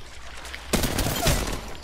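Apex Legends gunfire erupts partway through as a dense, loud fusillade of rapid shots. Steady game background noise comes before it, and the burst swells again shortly after.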